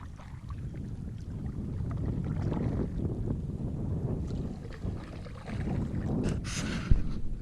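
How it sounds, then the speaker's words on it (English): A canoe is paddled across a lake in Algonquin Park, with soft water swishes and light paddle strokes under steady wind noise, close and low in level. "doing a good job single paddling in the front"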